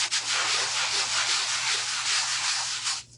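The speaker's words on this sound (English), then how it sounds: "we're going to sand this down just a little bit. I got a new sander today" A new electric sander works steadily across wood with a continuous, close, loud gritty rubbing hiss that holds evenly for about three seconds and then stops abruptly.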